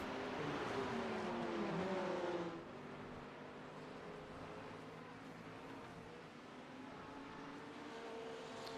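A Porsche race car at Virginia International Raceway (VIR) passes at a distance, its engine note rising then dropping to a steady far-off drone, faint and alone with no talk.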